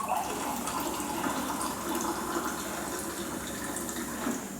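Warm water runs steadily from a tap, a close, continuous splashing hiss that holds at an even level, with no talking over it.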